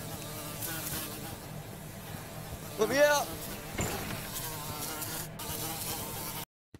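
In the Escape the Backrooms video game, a buzzing drone from the clown monster hums low under a player's shouted voice, with a brief rising warble in the middle before cutting off.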